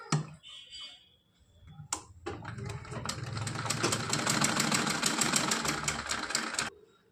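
A sewing machine stitches a round seam on a small dress for a Kanha ji figure. After a few soft handling noises, a fast, even mechanical whir runs for about four seconds and then stops abruptly.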